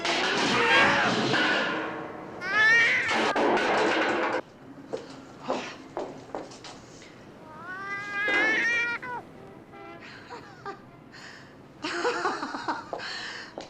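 A cat meows and yowls loudly near a garbage can, giving several drawn-out cries and caterwauls with quieter clattering between them.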